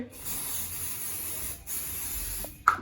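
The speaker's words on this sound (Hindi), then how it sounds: "और अब मैं लगाती हूँ जल्दी से बॉडी स्प्रे।" Body spray hisses from an aerosol can in one long continuous burst, then a brief second spurt, close to the microphone.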